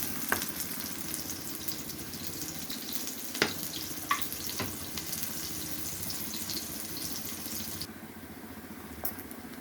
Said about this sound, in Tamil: வாழைக்காய் வறுவல் ரெடி ஆகிட்டுருக்கு